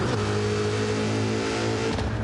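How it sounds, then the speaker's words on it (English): A race car on an oval track during a live racing event drives past with a steady, fairly quiet engine drone that holds level throughout, with no talk over it. "that car sounds really quiet driving by"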